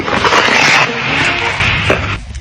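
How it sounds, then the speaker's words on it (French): An ice skate hockey stop with the blade angled into the ice, a loud close scraping hiss of spraying snow lasting about two seconds before cutting off. "Et voilà ce que ça donne quand je mets de l'angle sur mon freinage."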